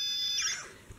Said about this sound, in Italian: questo è il rumore del laser, del cacciavite laser